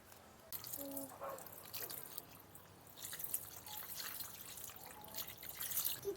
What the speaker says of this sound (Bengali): এখন তরমুজটা ধুয়ে আনবো